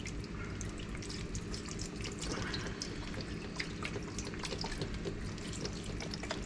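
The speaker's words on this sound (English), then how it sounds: "Now we gotta add our chicken broth" Chicken broth pours steadily into a pot of black-eyed peas, a continuous splashing liquid stream that stays even and close for several seconds.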